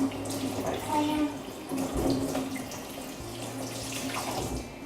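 Cold water runs from a tap as leaves used for stick insect food are washed, a steady splashing rush close by with a low hum underneath.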